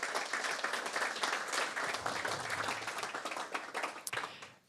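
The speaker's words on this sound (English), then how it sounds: "If we could give a round of applause for all the presenters that we had" Moderate, continuous applause from a conference audience for presenters at a farewell gathering, heard from a distance and fairly quiet, tapering off near the end with a sharp bump.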